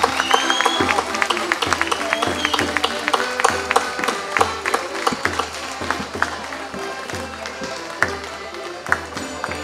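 A festival audience claps at the opening ceremony of the Barcelos folk festival, a steady patter of hands with sharp taps standing out and voices murmuring underneath throughout.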